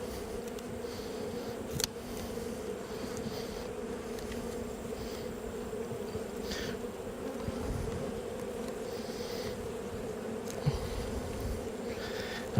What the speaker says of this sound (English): as soon as I pull this out, you're going to hear a lot of bees buzzing around me